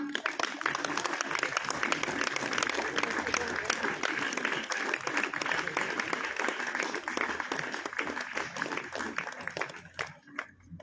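Loud, dense applause from an audience at a police training event, sustained and steady for about ten seconds before thinning out and fading at the end, with voices mixed into the clapping.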